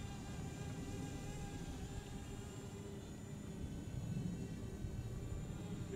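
XK X450 VTOL drone flying in quad mode at 80% throttle: a steady, faint, high-pitched buzzing whine of small propellers, continuous and distant, with no talking.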